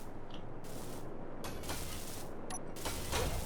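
Many pistons clustered together in the space-building game Space Engineers waggle and grind, a rattling mechanical clatter with creaky bursts that swell and fade, quiet and without talk.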